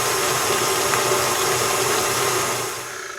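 Electric mixer running on high, creaming pumpkin spice cake batter: a steady, loud whirring motor drone with a dense broadband hiss that holds throughout, easing slightly near the end.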